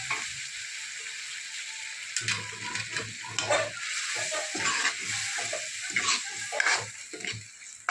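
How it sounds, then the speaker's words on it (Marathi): Cowpeas and boiled potato are stirred into a sizzling masala in a pan, giving steady frying hiss with irregular scraping and clattering stirs, close and fairly loud, with no talking. "आता टाकत आहोत आपण कुकरला लावली चवळी आणि बटाटा."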